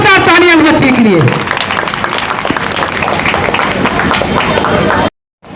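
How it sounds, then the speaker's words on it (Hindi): Applause for a student at a community event, a dense, sustained burst of many hands clapping that opens with a voice over it and cuts off abruptly near the end. "तालियां बच्चे के लिए।"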